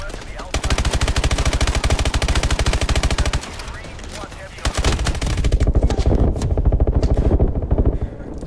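Loud, rapid automatic gunfire aimed at an enemy in the video game Call of Duty Advanced Warfare, long sustained bursts with a short pause midway, close and dominant over the game's background sound.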